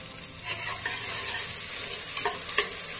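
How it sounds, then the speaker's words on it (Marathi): Finely chopped onions fry in a pan with whole spices for veg biryani, giving a steady close sizzle, with light stirring scrapes now and then and no talk. "कांदे आपण जे बारीक कापून घेतले ते घालायचे"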